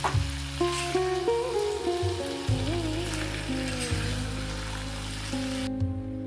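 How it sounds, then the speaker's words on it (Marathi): Vegetables and paneer stir-fry in hot oil for a homemade veg biryani, giving a steady close sizzle that runs unbroken for several seconds beneath tonal background music. "हे चांगले तेल सुटेपर्यंत परतून घ्यायचे आहे"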